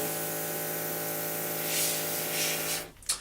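An airbrush or spray gun hisses steadily and close while painting a scale model, a continuous broadband spray with a faint underlying hum that stops abruptly near the end, followed by a brief soft puff.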